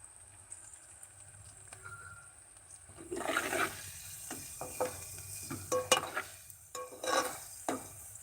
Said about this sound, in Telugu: ఆనియన్స్ అయితే మగ్గిపోయాయి ఇప్పుడు కరివేపాకు వేసుకోవాలి